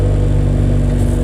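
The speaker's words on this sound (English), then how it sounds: "It won't change when I rev it." A Honda Civic EF engine revs up close and loud, a steady droning growl holding its pitch through a brief burst.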